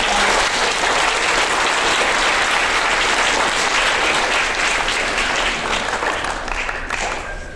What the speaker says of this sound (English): Kids, let's give her a big round of applause.